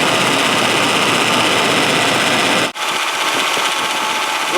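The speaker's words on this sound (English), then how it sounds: "Looks like the compressor's running like it should be now." The AC compressor of a 1998 GMC truck runs with a steady, dense mechanical whir and hum close by. The sound cuts out for an instant partway through, then carries on unchanged.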